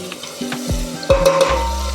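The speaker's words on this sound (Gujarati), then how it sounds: "પછી ટમેટા ને કોથમરી ને સૂકી ડુંગળી વઘારવામાં નાખીશી" Tomato, coriander and dry onion drop into hot oil for tempering, a brief crackling sizzle with sharp knocks and clinks of utensils close by.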